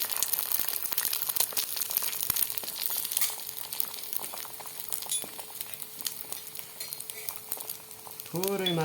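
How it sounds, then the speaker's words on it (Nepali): Sunny side up egg frying in oil or butter in a pan, giving a steady close crackling sizzle with popping bursts throughout, and a brief squeaky scrape near the end. "तावालाई अन्डाको सेतो भाग हालेर बिचमा"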